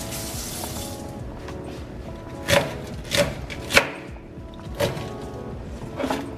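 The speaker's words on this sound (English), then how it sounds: "I am gonna chop some of them down" A knife chops cabbage on a cutting board in a home kitchen, giving five separate crisp thunks spaced irregularly about half a second to a second apart, close and clear over faint room noise.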